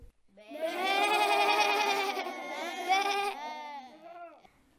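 A sheep gives one long, wavering bleat, close and clear. It lasts several seconds and trails off in a shakier tail, alone with no talk.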